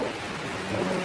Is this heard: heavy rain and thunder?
yes